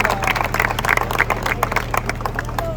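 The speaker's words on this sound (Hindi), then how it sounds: "तो इनका स्वागत करेंगे ताली बजाकर" An audience in Yeola, Maharashtra claps to welcome a guest at a public speech, a dense, steady burst of many hands applauding at close range, with a low hum underneath.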